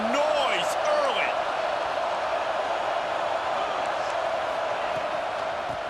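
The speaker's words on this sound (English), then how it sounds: "This crowd bringing the energy and noise early." Football stadium crowd at a Patriots vs Ravens game, a steady loud roar filling the whole clip, with a few whoops rising above the mass of voices.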